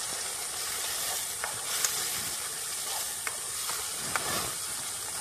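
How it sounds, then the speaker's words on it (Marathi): Hot oil sizzling in a kadhai while crab is being cooked: a steady, close hiss of frying with a few sharp pops and crackles scattered through it, fairly loud and with no voices. "तेल आता मस्त तापलं आहे आणि कढई तापलेली आहे."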